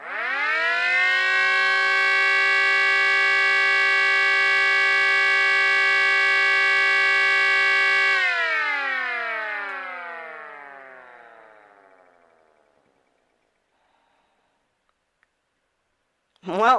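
An H.O.R. Model 15 Super-Sirex siren core with a brushed motor holds a loud, steady multi-tone wail for about eight seconds, then winds down in a long falling glide to silence before a brief restart at the end.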